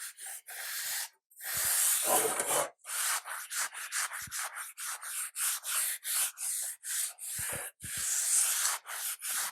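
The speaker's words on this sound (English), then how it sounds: "polish a little the surface of the whole blade here" Hand polishing of the surface of an antique sword blade, with light pressure, gives a series of close rhythmic rubbing strokes, some long and some short, with no talking.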